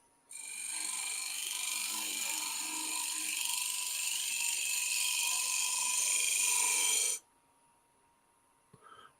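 A shear scraper cutting wood on a lathe gives a sustained, even rasping hiss for about seven seconds, close and steady, then stops abruptly, leaving a faint motor hum.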